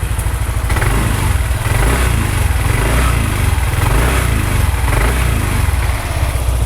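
An engine runs on BP gasoline with a steady, loud, close rattling drone and even rhythm throughout, with no voices.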